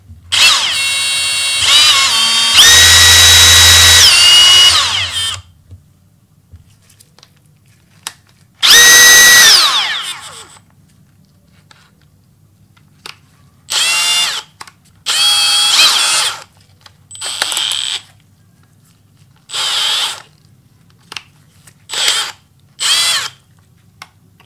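A cordless brushless drill whirs in a long burst, then revs again in a string of short bursts with pauses between. It is close and loud, with no talking.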